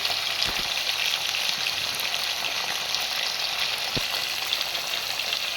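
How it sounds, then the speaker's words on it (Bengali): Pointed gourd frying in a pan with salt and turmeric, a constant loud sizzle with a couple of sharp clicks from the utensil, no talking. "পটলগুলো আমি একটু লাল লাল করে ভেজে নেব"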